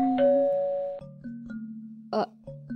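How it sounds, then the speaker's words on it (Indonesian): A doorbell chimes a two-tone ding-dong, ringing out clearly and fading, followed by a brief rustle and further bell tones. "Hingga kemudian, bel berbunyi."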